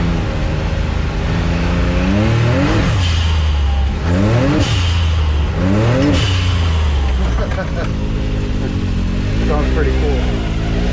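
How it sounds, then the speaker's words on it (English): A 2021 Can-Am X3 fitted with an RPM blow-off valve revs hard on the move. Each climb ends in a loud hissing whoosh as the valve dumps, repeated three or four times over the engine roar with the panel removed. "I'll take it for a ride so you guys can see what the blow-off valve sounds like"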